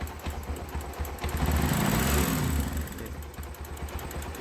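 A motorcycle engine runs after a self-start powered by a 12V 6Ah LFP lithium battery pack, a steady close running engine note that swells louder for about a second in the middle before settling back, with no talk.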